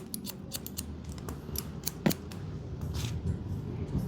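Scissors snip through hair during a layered Twiggy-style cut in a salon, a rapid run of close, crisp clicks and shears in quick succession with faint background noise.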